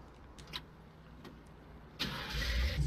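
A Bronco engine starting in the Farming Simulator 19 game: a few faint clicks, then the motor catches about two-thirds through and settles into a steady rumbling idle, close and louder than before.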